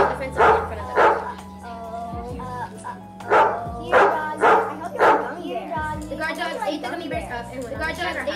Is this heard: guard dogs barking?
yes